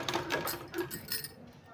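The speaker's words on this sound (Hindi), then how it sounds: "इस तरह से किनारी में सिलाई लगा देना है" A sewing machine stitches along the edge of a long, wide fabric strip for a sleeve design, producing a brief burst of quick, rhythmic mechanical ticking up close.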